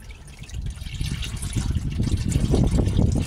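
Engine oil from a 1999 Porsche Boxster 986 pours steadily into a drain pan during an oil and filter service, a continuous close splashing trickle that grows slightly louder.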